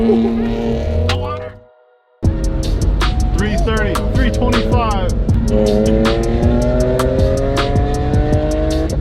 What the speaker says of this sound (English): Gravel drifting review for the Z3, 10 out of 10.